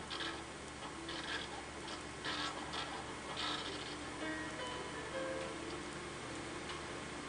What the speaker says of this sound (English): She also has a braille printer